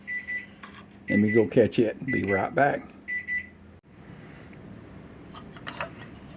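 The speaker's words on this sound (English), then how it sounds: "You can hear my timer going off." An electronic kitchen timer beeps repeatedly, partly under a person talking nearby, then the room goes quieter.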